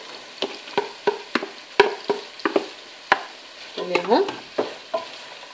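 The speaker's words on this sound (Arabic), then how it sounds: "شوفوا هاد السديرات ديالنا ها هما بداو تيتقلاو" Chicken pastilla briouats frying in hot oil, with clattering stirring and scraping in the pan over a steady low sizzle, close by; a brief word of talk is heard.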